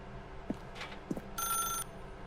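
Telephone bell in the video game The Stanley Parable rings once, brief and fairly quiet, after a couple of soft thumps, heard over a low background hum.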